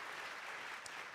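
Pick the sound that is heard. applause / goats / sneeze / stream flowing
applause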